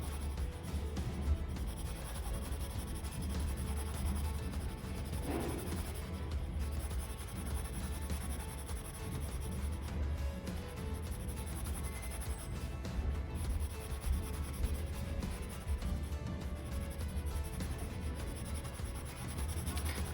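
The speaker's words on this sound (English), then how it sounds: "let's just take a blue color pencil, and we are gonna color it inside this." A blue colored pencil rubs over paper as a drawing is colored in, giving a steady soft scratchy scribbling that runs on without a break under faint background hiss, with no talking.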